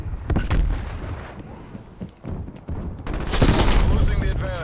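A Semtex grenade goes off amid heavy gunfire in Call of Duty: Black Ops Cold War. Loud, dense booms and rapid shots run throughout, with a big blast swelling near the end.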